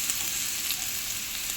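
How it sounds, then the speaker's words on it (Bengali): Jackfruit pieces fry lightly with potatoes in a pan, giving a continuous even sizzle, close and steady, with no talk. "এই যে এঁচোড়টা, এটাও আমি একটু হালকা আলুর সাথে ভেজে নেব।"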